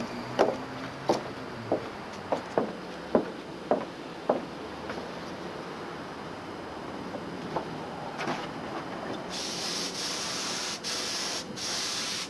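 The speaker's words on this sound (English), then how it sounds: "we're going to spray the top" Spray paint hissing over the top of a model airplane, first as a string of short sharp bursts, then a longer steady hiss near the end, all close and without talk.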